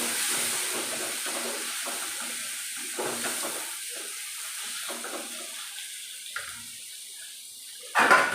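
Onions sautéing in a pan for mutton biryani give a steady, soft hiss that carries through the whole stretch, with a sharper rustle near the end.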